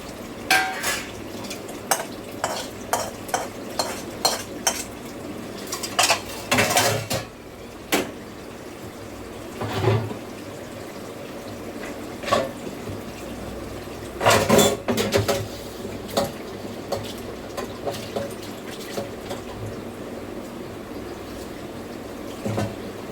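Dishes, pots and steel utensils being scrubbed and washed, with sharp irregular clinks and clatters close by, some heavier clanks of pans, over a low running-water background, no talking.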